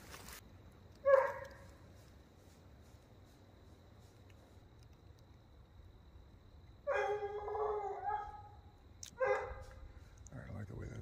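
A Blue Gascon hound puppy bays on a possum trail beside a creek in Texas: a few short, distant bays separated by long quiet gaps over faint outdoor background.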